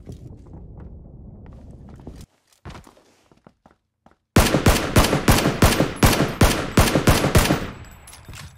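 Gunfire in PUBG comes in a rapid burst of loud, close shots after a few scattered footstep-like thumps and a brief quiet pause.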